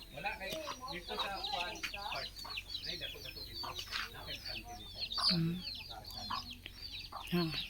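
Chickens cluck and call repeatedly on a farm in the Philippines, a busy overlapping chorus of short, fairly close clucks with faint voices murmuring in the background.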